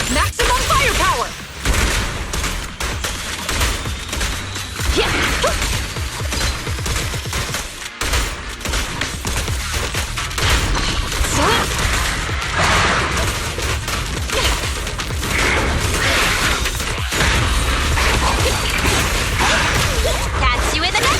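Weapon fire in the game Zenless Zone Zero, dense bursts of rapid gunshots and whooshing impacts mixed with crashes and booms, loud and continuous, with character voices shouting over the action.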